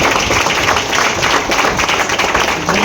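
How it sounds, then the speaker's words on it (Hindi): An audience at a distributor gathering claps in dense, sustained applause for nearly three seconds, a close, busy patter of many hands with no clear voices over it. "और सारे डिस्ट्रीब्यूटर के लिए जोरदार तालियां होना चाहिए।"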